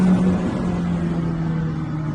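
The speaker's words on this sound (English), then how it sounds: "Oh yeah, that exhaust system is beautiful." A turbocharged McLaren 720S engine and exhaust pull steadily from inside the car on an open road, a loud, continuous, even drone that holds throughout with no talking.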